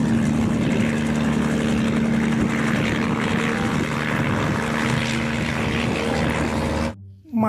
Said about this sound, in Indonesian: Lihat, ada helikopter.